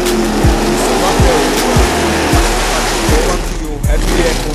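A Chevrolet Opala's engine roars loud and close, a deep continuous rumble with a rhythmic pulsing beat repeating about every three quarters of a second, while a voice speaks faintly underneath.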